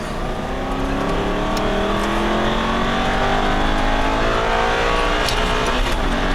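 An Aston Martin V8 Vantage accelerates hard out of a corner on a racetrack, its engine note climbing steadily and loud throughout, with faint tire noise and no talking.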